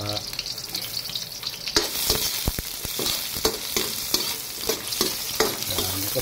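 Seasonings go into a hot pan after egg and before squid, and a loud continuous sizzle and fry fills the scene, broken by repeated scraping stirs.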